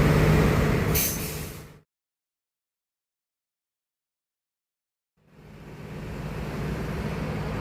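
Bus on a Hino AK 240 chassis, PO Bagong line, with a brief loud air-brake hiss near the start amid heavy road and engine noise; the sound cuts to silence before the rumble returns.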